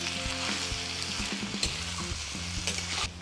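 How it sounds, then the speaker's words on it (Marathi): Onion and tomato for dhaba-style paneer bhurji sizzle steadily in a hot pan, with a spoon stirring and scraping through them. The frying is close and continuous, and faint tonal sounds hum underneath without any speech. "आता टाकलेला टमॅटो आणि कांदा एकजीव होईपर्यंत परत परतून घ्यायचा आपल्याला."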